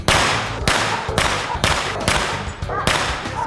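Several sharp, loud cracking shots ring out at irregular intervals during military police firing training in Aracruz, Brazil, each with a brief echoing tail.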